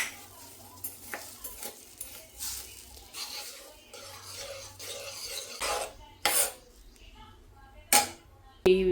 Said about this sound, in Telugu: సేమియా కూడా వేసేసుకుందాం. ఒకసారి తిప్పేసుకుందాం.